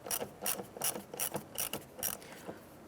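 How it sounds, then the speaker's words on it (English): Ratchet wrench tightening exhaust clamps on a 2007-2012 Nissan Versa exhaust manifold job, a steady run of about eight rapid clicking bursts in a back-and-forth rhythm, close and fairly loud, with no talking. "Let's go ahead and tighten down these 2 clamps right here."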